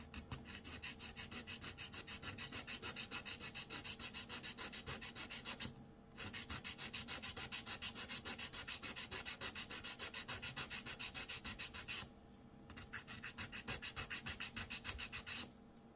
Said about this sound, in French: nous allons mettre notre lime dans l'angle de notre ligne. Donc, notre ligne est comme ceci. Nous allons donc reporter notre lime et limer comme ceci.